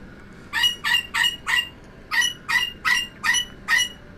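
A pet bird lets out a run of nine loud, harsh squawks in quick bursts, with a short pause partway through, close and clear with no talking.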